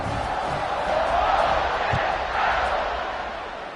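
Home crowd roaring at a college football game in a video game, a steady, dense wall of cheering noise that swells slightly in the middle and eases toward the end.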